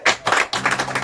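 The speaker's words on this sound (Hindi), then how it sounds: "हम परमेश्वर के लिए ताली बजाएं।" Hands clap briefly and closely in praise of God at a home prayer meeting, a quick burst of a few overlapping claps.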